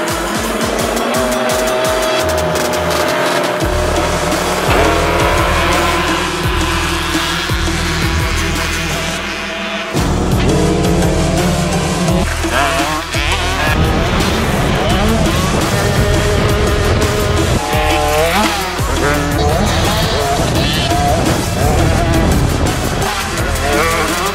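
Motocross dirt bikes in a 50cc race buzz loudly and continuously at high revs, engines whining up and down as the small bikes race past close by in a steady roar.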